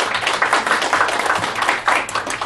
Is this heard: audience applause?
yes